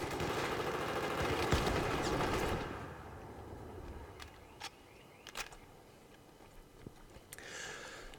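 A loud burst of rapid gunfire from the video game Battlefield 4 during a 5v5 Domination match, fading after a couple of seconds into sparse distant single shots and clicks.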